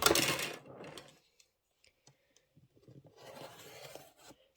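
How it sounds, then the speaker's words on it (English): Scissors or a rotary cutter slices through quilt fabric in two short bursts of rasping cuts, separated by quiet taps and faint handling noises. "Now I'm going to cut top and bottom."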